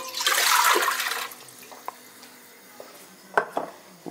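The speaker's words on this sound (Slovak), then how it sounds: "Do hrnca si nalejeme vodu." Water pours into a cooking pot set over a flame as chicken soup is made, with a loud rushing splash that fades after about a second. A few metallic clinks from the pot and utensils follow.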